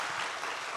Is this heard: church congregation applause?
yes